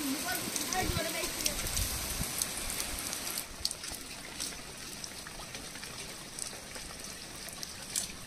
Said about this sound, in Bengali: মাছ কাটতে কাটতে প্রচুর জোরে বৃষ্টি চলে এসছে